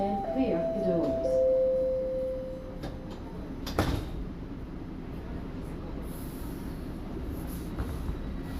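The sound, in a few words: Toronto subway train doors closing with chime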